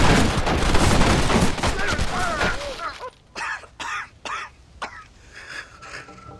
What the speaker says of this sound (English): Stepping into the open to face his fate, John draws, fires his final shots,